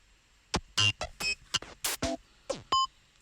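A quick, uneven, randomized Ableton sequence of synthetic drum hits, kicks, snares and hi-hats at varying loudness, with a few short tonal blips scattered through the pattern.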